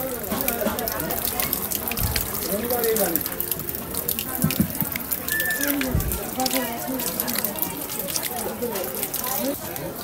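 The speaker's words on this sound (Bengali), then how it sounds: "হাত ধুতে চলে আসলাম" Water runs and splashes from a tap as someone washes their hands after a village wedding meal, a steady close flow with a few sloshes and drips, with people talking over it.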